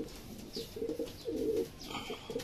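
A racing pigeon, the first of the birds back from a club training flight, coos in soft, repeated low phrases close by, with faint outdoor background.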